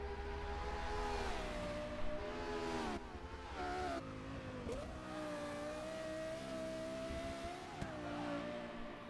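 A Lexus LFA revs hard while driving, its engine note sweeping up and down through gear changes with loud, sustained harmonics, close and continuous with no talk.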